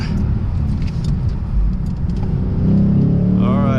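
A Lexus RC F engine rumbles under cabin noise, then revs up louder and higher as it accelerates near the end.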